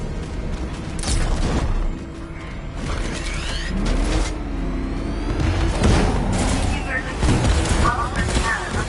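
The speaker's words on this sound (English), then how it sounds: "Warning, explosion imminent." Explosions and mechanical clanking from the Batman: Arkham Knight video game, with booming low rumbles and metallic debris over a busy, loud game soundtrack, and a voice speaking at points.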